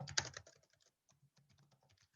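Java code typed on a computer keyboard during a programming lesson: a quick burst of keystrokes at the start, then sparse, faint clicks trailing off, close but quiet.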